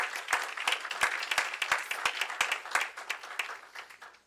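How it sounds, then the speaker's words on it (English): A small audience applauds at a school career day, a fairly sparse round of individual claps with distinct sharp hits, moderately loud and steady before thinning toward the end. "Can we give them a round of applause, please?"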